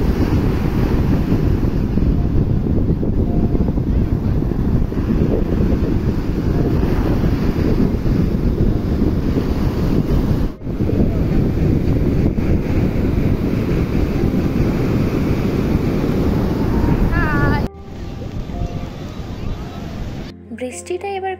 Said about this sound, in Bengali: আমরা ঠিক সকাল 7টার সময় এলাম সমুদ্রের পাড়ে।